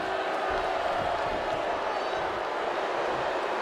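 Wrestling crowd in Memphis roars steadily in a dense, continuous wall of cheering and shouting throughout.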